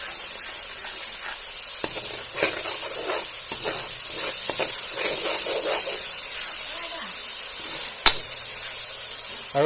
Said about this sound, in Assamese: এতিয়া বিলাহীখিনিৰ লগত আমি এটা ভাজি ল'ম